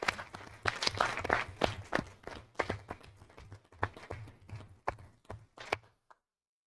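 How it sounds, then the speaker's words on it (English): Scattered clapping at a school district board meeting, honouring the Capital Conference top 10 students; a modest audience claps unevenly, with the claps thinning and dying away before a brief silence. "please give one last round of applause for our Capital Conference Top 10."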